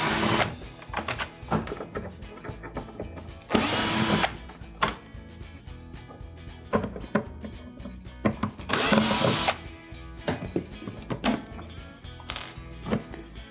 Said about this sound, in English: finish taking the rest of the Phillips screws out so I can have access to the control board